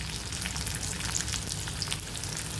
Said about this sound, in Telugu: ఈ ఉల్లిపాయలు మొత్తం హై ఫ్లేమ్ మీదే వేయించుకోవాలి